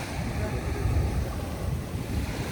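Mediterranean surf near Málaga rushes and churns steadily on the shore, mixed with gusty wind buffeting the microphone.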